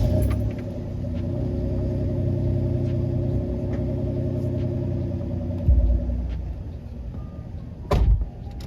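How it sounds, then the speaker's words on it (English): A truck engine cranks over and settles into a low, steady rumbling idle with a faint harmonic drone, which drops off near the end, followed by a short mechanical clunk. "Let's give the truck a little crank."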